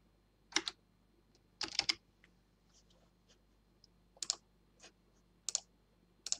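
Keys tapped on a computer keyboard in a laser-cutting setup session, entering initials for engraving gears for a drawing machine: short clustered bursts of clicks, about five quick groups spaced over a quiet background, close and fairly faint.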